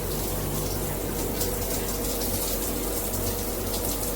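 Water rushes steadily from a MakeFit filtered shower head and its handheld sprayer running together, a dense continuous hiss and splash with no voices.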